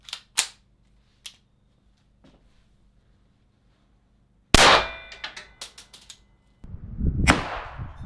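Unsuppressed .22 Long Rifle fired indoors in a house: after near silence and a few small clicks, one sharp, loud crack bursts out and rings off, followed by further close rattling and rustling.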